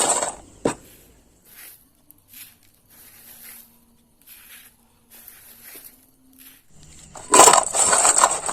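Crispy fried chickpea pakoras are bitten and crunched in a quiet room, short separate crunches spaced apart, followed by a louder burst of crackling crunch near the end.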